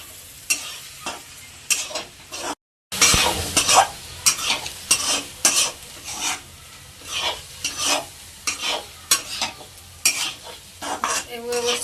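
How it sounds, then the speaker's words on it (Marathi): Chicken keema with masala being stirred in a pan, a steady run of scraping, clattering spoon strokes over a soft sizzle, close and fairly loud, with a brief silent gap early on and no talking. "तसं मिक्स करून घ्यायचं आहे मसाला पूर्णपणे मिक्स झाला पाहिजे"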